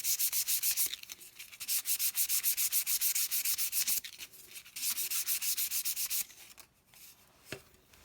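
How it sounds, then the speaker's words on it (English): Close, rapid back-and-forth sanding strokes smooth the seam on a painted Loadstar II model, a steady gritty rasp with brief pauses between bursts and a small knock near the end. "I am doing a little extra sanding where the seam was just to try and also help make that smoother."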